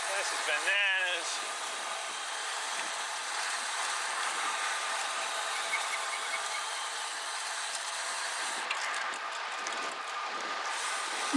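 Car brakes on a steep Simi Valley road give off a harsh, continuous grinding hiss that holds steady for several seconds, with a voice heard briefly at the start.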